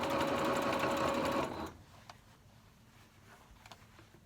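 A sewing machine runs loud and fast, stitching over a thick seam of denim jeans, then stops abruptly, leaving faint ticks and handling noises.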